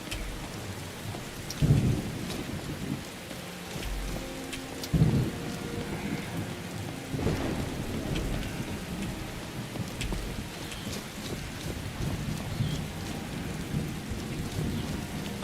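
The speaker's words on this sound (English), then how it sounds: "Oh God, we got some lightning and thunder" Steady rainfall hisses through a Skyrim game scene while rolling thunder booms twice early on, followed by lighter rumbles, with no talking.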